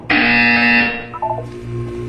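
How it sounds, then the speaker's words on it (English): A buzzer in the video game Portal 2 sounds one loud, harsh, sustained electronic buzz for nearly a second, then cuts off into a few fainter tones against a low background hum. "You will hear a buzzer."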